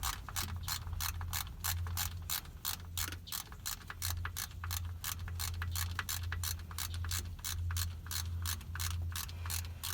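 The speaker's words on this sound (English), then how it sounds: "I believe it's only like the second time I've used this little ratchet" A small ratchet wrench clicks in a steady, rapid rhythm while working on a Ford C6 transmission during a fluid change, sharp close ticks repeating over a low hum, with no talking.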